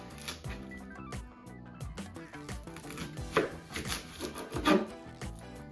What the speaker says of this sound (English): you want to cut off both ends of the onion